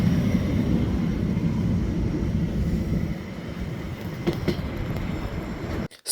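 A train speeding up in northern Germany makes a loud, continuous rumble of wheels and carriages that eases slightly partway through and then cuts off abruptly near the end.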